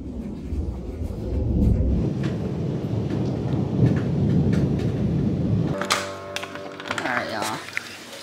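A thunderstorm with frequent lightning rumbles with heavy low thunder over steady rain, the rumble easing partway through as sharper crackles and patter continue close by.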